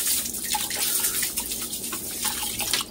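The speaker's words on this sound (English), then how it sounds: "Then I'm going to add some spring water." Spring water is poured into a pot of uncooked white rice on a home stove, a steady, continuous splashing pour heard close up with no speech.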